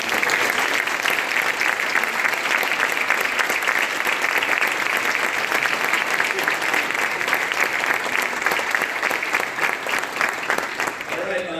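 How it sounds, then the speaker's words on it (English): A sustained round of applause fills a room at a Fresno Fire lifesaving award presentation, steady dense clapping for over ten seconds with faint crowd murmur beneath. "So how about a round of applause for Clifford?"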